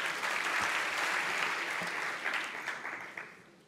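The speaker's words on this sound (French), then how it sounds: "On peut l'applaudir." An audience at a science-communication competition claps in sustained applause, dense and fairly close, gradually thinning out toward the end.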